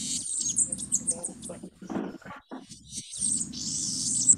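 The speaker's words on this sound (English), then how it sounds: "So that is the very familiar sound of the banana quit." A bananaquit on St. John in the Virgin Islands gives a run of high, thin chirps and buzzy trills in several bursts, moderately close against quiet surroundings.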